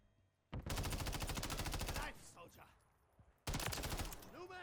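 Rapid automatic gunfire from a Call of Duty game, loud bursts of fast repeating shots in two stretches with a quieter gap between them holding lighter clatter.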